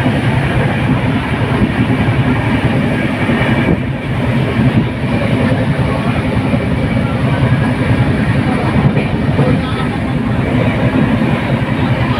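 Inside a moving passenger train, a loud constant rumble of wheels and carriage fills the whole stretch, with faint rhythmic clatter and no talking.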